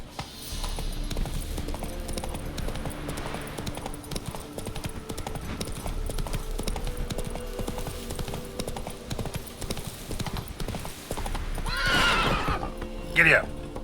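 A horse gallops in The Witcher 3 video game, steady rhythmic hoofbeats drumming throughout, ending in a loud whinnying neigh near the close.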